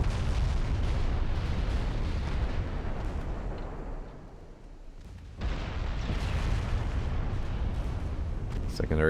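Naval guns firing in Ultimate Admiral Dreadnoughts, a 1913 French campaign battle, with heavy booming salvos rolling one into another, loud and dense, easing briefly before the barrage resumes.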